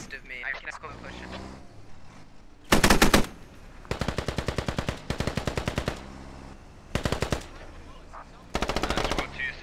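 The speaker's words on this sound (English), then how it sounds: "Squad 2 still taking fire from south." Machine-gun fire in the tactical shooter Squad during a one-life operation event: several loud, rapid automatic bursts at close range, separated by short gaps, with team voice chat running beneath and between them.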